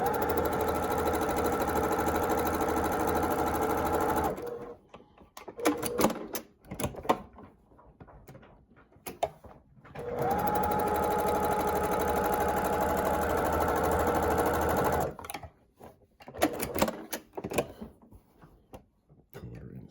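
Sewing machine stitching a quarter-inch quilt seam in two long steady whirring runs, close and fairly loud, separated by quieter handling noises and brief talk.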